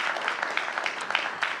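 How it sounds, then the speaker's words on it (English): An audience at a city mayor's budget address breaks into a short burst of applause, a dense patter of claps from a crowd held at a steady, moderate level. "I knew that was going to get some applause"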